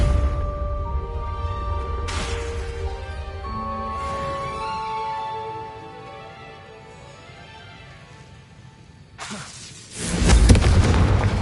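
The Confringo blasting curse goes off in Hogwarts Legacy during classroom practice: a heavy, loud boom with a crackling burst near the end, after quieter magical whooshes and tones.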